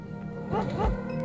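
A dog in the video game NORCO gives a brief, single bark, close and fairly loud over a low game background hum.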